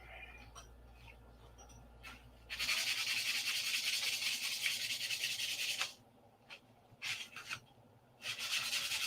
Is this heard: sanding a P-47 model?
yes